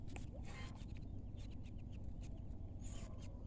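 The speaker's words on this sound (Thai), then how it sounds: "นี่ มีลูกเป็ด" Ducklings on a spacious farm that also keeps geese chirp in high, quick peeps over a dense, steady farmyard noise.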